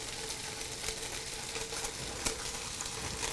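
Soy-based vegan egg pieces frying in a pan over a high flame, giving a dense, even sizzle throughout with a couple of faint taps.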